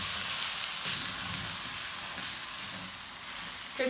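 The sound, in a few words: tomato paste frying in pan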